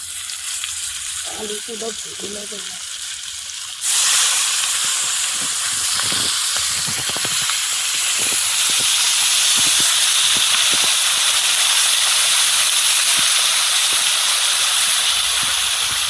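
Potatoes hit hot oil in a frying pan with fried onion and liver, bursting into a loud, sustained sizzle and hiss that continues steadily after a short quiet stretch with brief talk.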